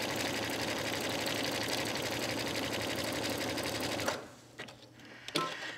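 A sewing machine runs steadily at speed, zigzag stitching around a fabric applique with a fast, even mechanical chatter for about four seconds, then stops, leaving a few soft clicks and handling noises.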